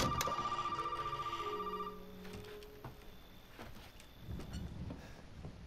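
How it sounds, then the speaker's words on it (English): A telephone rings in the Resident Evil 7 horror game, a loud repeated trilling bell that stops after about two seconds, followed by quieter clicks and a low rumbling room ambience. "Of course, the phone rings at that exact point."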